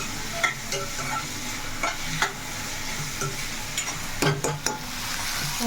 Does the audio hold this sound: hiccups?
no